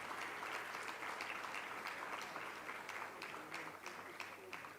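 Steady applause from an audience, many hands clapping at moderate volume, slowly fading toward the end.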